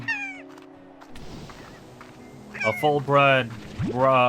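Tabby slimes in the video game Slime Rancher 2 let out several cartoonish cat meows, short and rising, clustered toward the end and close up, with a person talking over them.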